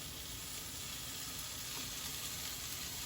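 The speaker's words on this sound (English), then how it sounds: "I'm going to go ahead and add my 2 cloves of minced garlic" Minced garlic hits browned onions in a hot pan and sizzles in a steady, even crackle. The frying hiss stays close and continuous, with no voices over it.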